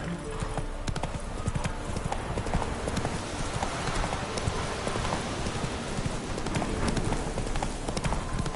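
Hooves pound rapidly and continuously as a horse gallops in The Witcher 3, loud and close, with rain and outdoor game ambience filling the background.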